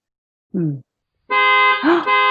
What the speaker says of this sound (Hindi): अरे हॉर्न बजा